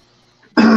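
A person lets out a single sharp sneeze, a sudden loud, close burst after near silence.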